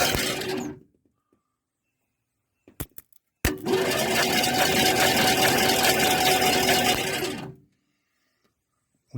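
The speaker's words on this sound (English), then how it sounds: "We now have a rotating engine." A 1970 Ford Falcon engine cranks over on its starter, wired directly, in a loud steady whirring churn lasting several seconds, preceded by a couple of sharp clicks and silence, then cutting off abruptly.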